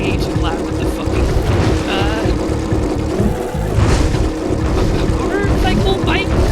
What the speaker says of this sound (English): Yeah, it's a motorcycle. It's like a hover bike.